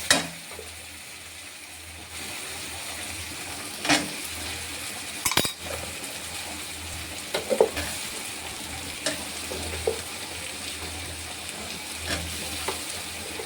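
Small and large soya chunks fry in a pan for a pointed gourd curry, a steady close sizzle broken by repeated scrapes and clacks of a spatula stirring against the pan.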